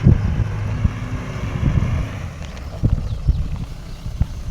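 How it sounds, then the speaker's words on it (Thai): A dump truck with a broken wheel bearing rumbles and knocks in a low, continuous drone outdoors, with wind buffeting the microphone and several irregular thumps standing out. "คือเสียงลูกปืนแตกแท้"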